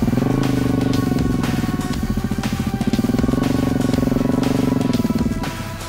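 A Husqvarna 701 Enduro motorcycle engine runs on a mountain ride, a loud, close, steady drone with a throbbing pulse that eases slightly and swells again before tailing off at the end.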